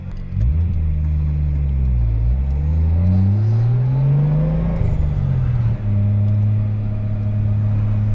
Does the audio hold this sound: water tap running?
no